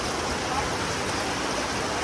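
Heavy rain pours outdoors near a highway. It makes a dense, steady, loud hiss that fills the whole space without a break.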